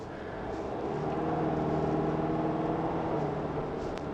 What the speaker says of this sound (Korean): 이렇게 저속으로 내려오게 되면 좀 거친 승차감도 드러나고 거친 엔진도 드러나요